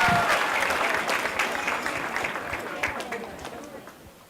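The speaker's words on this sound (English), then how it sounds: "Please have one more round of applause for all the kids because they worked really hard." An audience at a Diwali celebration applauds the children after their performance, dense clapping that starts strong and slowly fades over a few seconds, with some crowd chatter mixed in.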